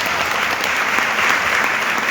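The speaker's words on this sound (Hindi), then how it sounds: "बार जोरदार ताली होना चाहिए, जबरदस्त" Dense, loud applause from a seminar crowd, many hands clapping together in a continuous even roar that holds steady throughout.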